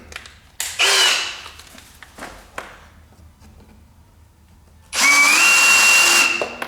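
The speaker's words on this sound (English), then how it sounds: "just take that drill out, put a countersink bit in" A cordless drill fitted with a countersink bit bores into wood during a pipe organ restoration, two loud bursts of whining motor with quieter knocks and handling noise between them.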